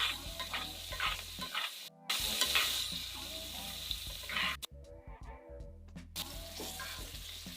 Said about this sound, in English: Let it melt down. Top of the salmon.